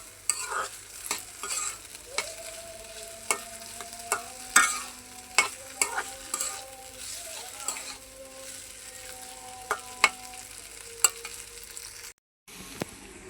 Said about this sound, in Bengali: এই যে এখানে ডিমের চপ আছে, আলুর চপ আর বেগুনিগুলি আমি ভাজতে দিয়ে দিছি